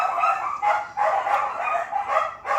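Several dogs bark continuously at home, a dense overlapping run of loud, close yaps with barely any gaps between them.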